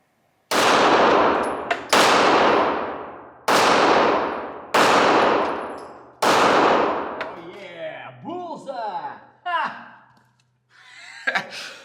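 Ruger MAX 9 compact 9mm pistol firing five loud, sharp shots in an uneven rhythm, each report ringing against a steel target, followed by a few quieter clanks and knocks.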